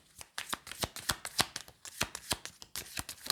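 Tarot cards shuffled and dealt by hand, a close, dry run of sharp riffling flicks and slaps in an uneven rhythm, with no voice over them.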